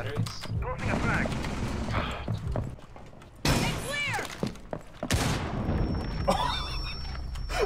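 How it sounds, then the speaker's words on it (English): A frag grenade blast in a Rainbow Six match bursts out sharply, followed later by a second loud crack amid scattered gunfire, with players talking over the action. "Dropping a frag."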